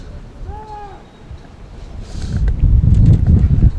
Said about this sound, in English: Wind is starting to really kick up here. I'm sure you can hear it on your computer